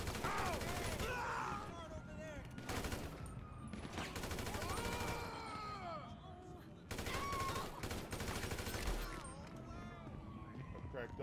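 Video game shootout with bursts of rapid gunfire and single shots cracking out in clusters, separated by quieter stretches of ambient game sound and voices.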